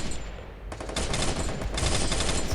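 Video game gunfire crackles in rapid automatic bursts, a loud sustained stutter that breaks off briefly and then resumes, with no voices heard.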